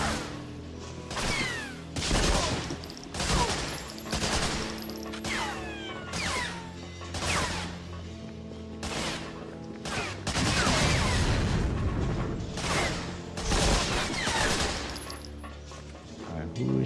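Dense World War II gunfire from Medal of Honor Frontline on PS2 fills the scene with repeated rifle and machine-gun bursts, crashes and impacts, loud and close, with game voices mixed in.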